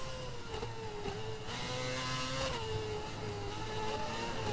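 A Formula One racing car engine screams at full revs, its whine holding close and loud with slight pitch wobbles and no voices.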